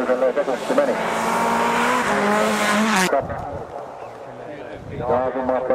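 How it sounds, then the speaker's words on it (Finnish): A rally car on a snowy special stage of the 2013 Itäralli Finnish championship rally roars loudly as it slides into the outside snowbank. The engine cuts off abruptly, followed by quieter rumbling while a commentator talks over it. "Auto liukuu tuonne ulkopuolen penkkaan ja vauhti hidastuu siinä"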